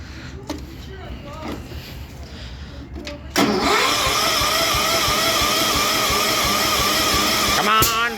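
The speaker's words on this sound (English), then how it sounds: "so we're going to do a cold start on it." A cold 6.2 liter diesel engine on a 1974 Cub Cadet 1650 International Harvester tractor cranks, catches and jumps into a loud, steady, close running roar, with voices talking beforehand.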